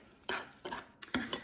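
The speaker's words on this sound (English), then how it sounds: "I'm going to mix this up" A spoon scrapes and clinks against a bowl in three or four quick strokes as cottage cheese queso is mixed with taco seasoning, close and fairly quiet.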